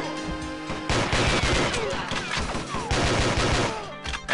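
Rapid automatic gunfire in Goldfinger 64, a Goldeneye 64 mod, loud and close in two sustained bursts with ricochet-like whines between them, ending abruptly.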